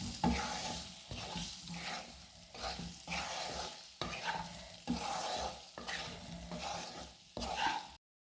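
Salted tender baby mangoes being stirred into pickle masala in a pan, with a steady rhythm of scraping, wet stirring strokes over a soft sizzle, close and moderately loud.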